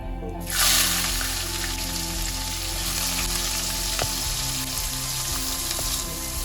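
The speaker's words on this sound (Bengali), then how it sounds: "পেঁয়াজ আর কাঁচা লঙ্কাগুলোকে এবার হালকা লাল লাল করে আমি ভেজে নেব।" Chopped onions and green chillies fry in hot oil for potol chingri, a loud, close, steady sizzle that bursts in suddenly and then keeps going without a break.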